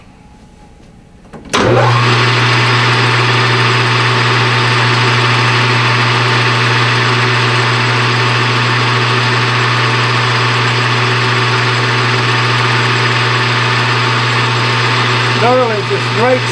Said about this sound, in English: Tap drill for this is a 5/32. We're going to make this a little over an inch. We're going to drill it through.